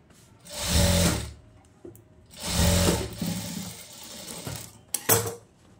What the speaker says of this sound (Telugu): ఇక్కడ నుంచి ఇలా స్టిచ్ వేస్తాం